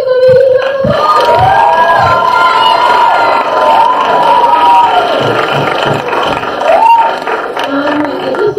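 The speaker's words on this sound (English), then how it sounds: "Please give them a huge round of applause." Children at a school Battle of the Books event cheer and shout loudly in a packed, echoing room, voices whooping and rising in waves throughout with little break, close and sustained.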